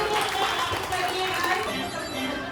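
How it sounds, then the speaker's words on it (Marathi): A group of people at a child's birthday celebration clap together in a brisk, continuous round of applause, close by, with voices chattering over it. "सगळ्यांना स्वतःसाठी जोरदार टाळ्या वाजवायच्या"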